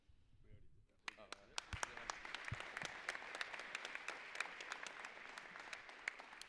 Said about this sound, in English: Join me in a round of applause for these dedicated service members as they stand.